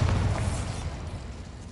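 A Bombarda spell explosion from the video game Hogwarts Legacy gives a deep, loud blast and rumble that decays over under two seconds.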